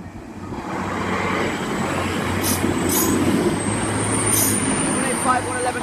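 A train rolls through Malton level crossing in Yorkshire, a loud, steady rumble of wheels on rail close by with high squealing whines partway through, while a person talks over it.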